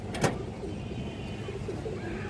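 A red-eyed Bagha pigeon gives a soft coo over a steady background hiss, one brief call near the start with faint noise of a busy setting around it.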